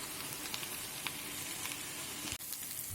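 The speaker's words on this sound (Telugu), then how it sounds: "మిరపకాయి కొంచెం చింతపండు కూడా ఇప్పుడే వేసేసుకుంటున్నానండి మగ్గితే బాగుంటుందని" Chillies and tamarind frying in a pan, a constant close sizzle with a few light taps of the spoon and one sharp clack near the end.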